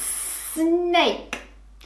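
A voice imitates a snake's hiss with a long, steady 'sss' sound during a preschool phonics lesson, followed briefly by spoken voice.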